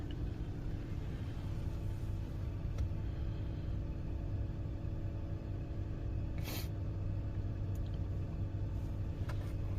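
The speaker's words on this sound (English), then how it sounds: "Take a little drive down the road and back." A 1998 Mazda MPV Allsport 4WD minivan driving down a road, with a steady low engine and road rumble throughout and a couple of faint brief clicks.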